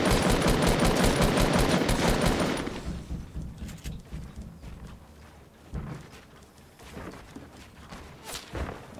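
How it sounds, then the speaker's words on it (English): Gunfire in a Fortnite tournament match: dense rapid shots crowd the first few seconds, then thin out into scattered single cracks and thuds against the game's background. "Somebody else is sniping at me as well"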